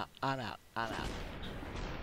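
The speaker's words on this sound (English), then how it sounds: "No, not a minigun. Machine gun." Gunfire booms in the video game SuperHOT: Mind Control Delete after two short vocal sounds, then rumbles on as a sustained, noisy barrage.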